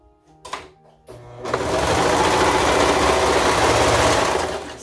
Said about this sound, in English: you're gonna start on this folded edge underneath your serger